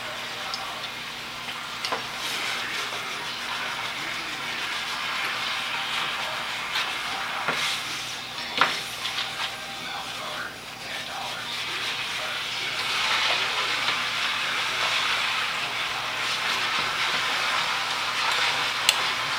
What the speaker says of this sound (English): very gently, I'm going to try to scrape the pan